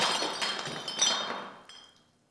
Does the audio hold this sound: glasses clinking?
yes